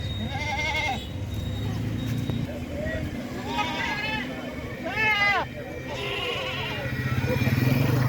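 Several local goats bleat in wavering cries at intervals, some close and loud, amid a busy background of voices and general noise at Baneshwar livestock market, Puthia, Rajshahi.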